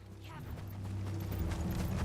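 Horse hooves clip-clopping in the video game Final Fantasy XVI, a steady muffled trotting beneath a busy game soundscape with a low rumble throughout.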